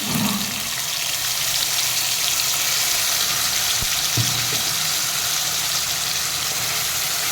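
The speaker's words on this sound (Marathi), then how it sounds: "याला तेल सुटेपर्यंत आपण हे छान परतून घ्यायचं आहे" Ground spice paste fries in oil with a loud, dense, continuous hiss and a low steady hum beneath, and one brief knock partway through.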